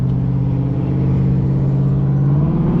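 The heavy engine of a 1978 Freightliner cabover truck rumbles steadily up close at a truck show, its low drone rising slightly as it begins to move off, with no voices.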